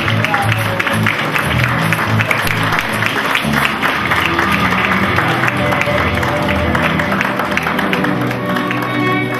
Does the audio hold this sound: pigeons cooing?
no